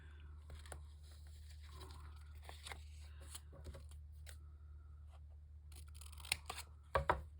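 Scissors snipping through paper and cardstock while working in a mixed media journal, a few quiet scattered cuts and rustles close by, ending with a couple of sharper snips.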